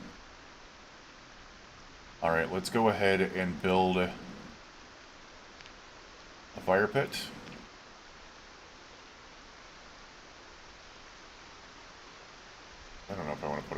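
Steady rain in the survival game Project Zomboid, a soft continuous hiss running faintly through the whole stretch while a person talks in a few short bursts over it.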